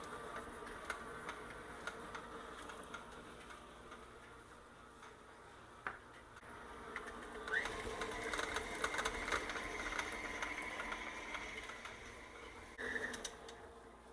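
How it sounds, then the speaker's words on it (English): A KitchenAid stand mixer beats a mascarpone and cream cheese mixture with sour cream and orange zest, a steady mechanical whir that grows louder partway through and runs alone without talk. "Into the KitchenAid, we're going to lift that bowl up,"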